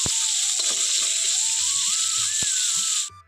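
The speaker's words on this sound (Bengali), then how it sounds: "এইভাবে উল্টে পাল্টে মাছগুলোকে ভেজে নিতে হবে" Pieces of shol fish fry in hot oil in a pan, giving a steady close sizzle with occasional clicks and stirring knocks before it cuts off.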